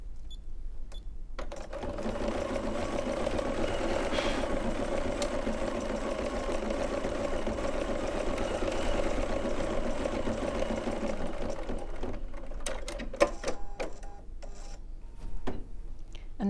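A sewing machine runs steadily as it stitches a tack-down line in a machine-embroidery project, a continuous close mechanical whir for about ten seconds before it stops and leaves small handling clicks.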